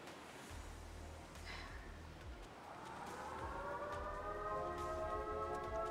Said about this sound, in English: And now there's a siren.